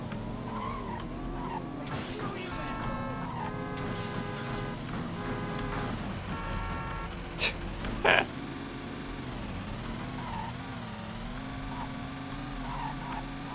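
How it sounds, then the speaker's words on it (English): Damaged car engine in GTA 1, a strained steady droning hum with wavering tones, joined by brief sharp squeals partway through, fairly quiet and continuous with no talk. "I'm guessing that sound means the car's on its last legs"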